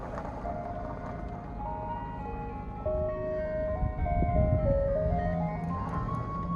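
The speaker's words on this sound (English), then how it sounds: "Even in the desert, you have an ice cream truck." An ice cream truck in a desert long-term visitors area at Pilot Knob, California plays its melody over a rumbling motor as it drives past nearby, the tune and engine growing a bit louder midway.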